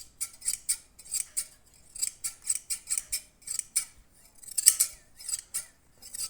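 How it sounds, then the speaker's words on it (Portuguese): Scissors snipping lightly along the sides of a horse's mane during clipping, a close, steady run of sharp metallic cuts in quick irregular bursts with short pauses between them, no voices. "levo a tesoura de leve e desquino os lados"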